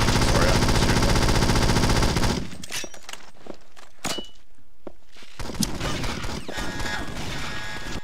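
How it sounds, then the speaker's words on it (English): Dense, loud automatic gunfire roars for about two seconds while shooting enemies in a competitive shooter video game scrim, then gives way to scattered sharp shots, thuds and mechanical clicks at a quieter level. "I'm just shooting them"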